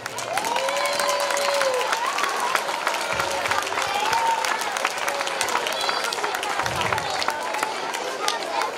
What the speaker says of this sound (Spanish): quiero mandaros un aplauso para todos vosotros